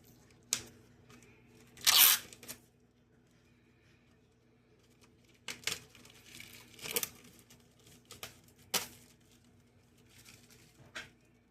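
Plastic wrapping is torn off CDs in short, close crinkling rips and crackles, scattered bursts separated by quiet pauses.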